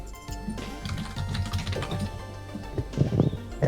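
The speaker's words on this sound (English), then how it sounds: "Banging away on them keyboard." Rapid clattering keystrokes on a computer keyboard while a tournament scoreboard is updated, close and busy with irregular bursts of taps throughout.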